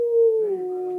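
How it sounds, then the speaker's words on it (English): A single wolf howls in a video game, one sustained tonal note that slides slightly downward and holds, clear and fairly close. "Some reason I keep on hearing this wolf."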